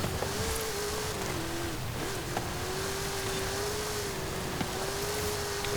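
A 2013 Hot Wheels Baja Bone Shaker drives off-road in Forza Horizon 5, its engine holding a steady, continuous drone with slight dips in pitch, alongside rushing road and wind noise throughout.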